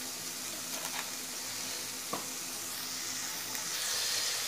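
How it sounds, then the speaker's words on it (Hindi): Egg roll masala with sauces sizzles and fries in a pan on high flame, a loud continuous crackling hiss with occasional stirring scrapes. "इसे हाई फ्लेम में 2 से 3 मिनट तक भूनना है।"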